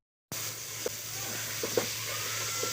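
Masala sizzling in hot oil in a pot while cooking aloo matar moongre in a village kitchen, a steady soft frying hiss with a few faint pops and crackles.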